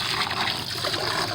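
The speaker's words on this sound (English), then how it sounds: "The next step is to rinse" Water pours and splashes steadily while rinsing PVC pipe parts, a continuous close trickling wash with no talk.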